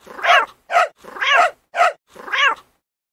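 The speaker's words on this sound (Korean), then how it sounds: "구슬을 잃어버린 개와 고양이는 크게 싸웠습니다." A cat and a dog snarl and yowl at each other in five short, loud bursts with brief gaps between them, close to the microphone.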